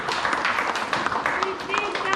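Audience at a public meeting applauding a speaker, moderate clapping from a crowd in a hall, fairly faint, with talk over it.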